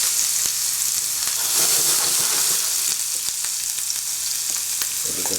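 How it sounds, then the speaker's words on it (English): Onions fry in a pan with a steady, bright sizzle that runs the whole time, close and loud, broken by a few soft clicks of stirring and no talking. "But first, we'll add onions."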